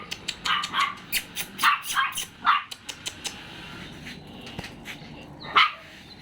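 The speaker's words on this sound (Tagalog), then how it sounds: "Ay, tumatahol na siya oh." A corgi puppy barks in quick, sharp yaps, several in a row, then scattered single barks with pauses, close by and fairly loud.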